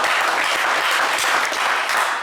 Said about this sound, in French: on va vous applaudir quand même très fort.